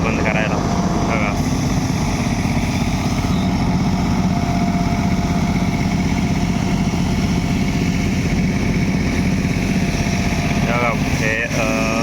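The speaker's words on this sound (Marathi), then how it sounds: "हा ट्रॅक्टर फक्त आर्मीचरवरतीच चालू आहे पाणी उपसण्यासाठी." A Massey Ferguson 7250 tractor engine runs steadily at a farm well, driving an armature to pump water, its dense mechanical drone continuous and close throughout with brief talk mixed in.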